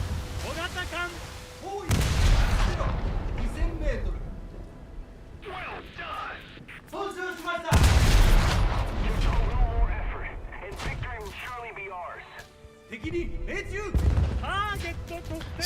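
Naval anti-aircraft guns on a frigate firing at aircraft, with heavy booming blasts and rapid bursts of gunfire rolling in loud waves, while excited voices talk over the shooting.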